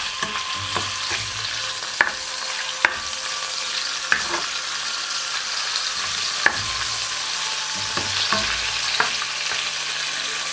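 Cucumber is stir-fried in a pan, with a steady sizzle broken by repeated sharp utensil clacks and scrapes at uneven intervals, and no talking.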